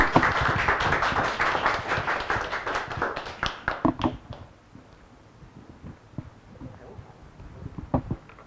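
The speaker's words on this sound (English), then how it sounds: "a round of applause" An audience at an academic workshop talk applauds a speaker. The clapping starts dense and loud, then thins to scattered claps that fade over several seconds.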